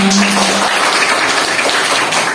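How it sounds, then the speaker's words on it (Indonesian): Students in a classroom applaud for a classmate named Livina, a steady, fairly loud wash of clapping hands sustained throughout. "Boleh beri tepuk tangan untuk Livina"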